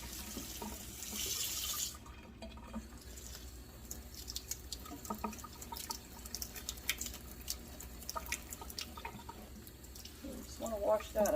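Rhubarb stalks washed under a running kitchen tap, with a steady rush of water into the sink that changes as the stalks move through the stream, and some talk over it.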